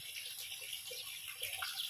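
Flowing water in a concrete fish pond holding gurami, climbing perch and tilapia, a faint, continuous trickle and splash that stays fairly steady, with no voices.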